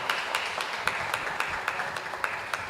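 Scattered applause from a small audience at a council on ageing annual general meeting, steady clapping with distinct individual claps, moderately close, no talking.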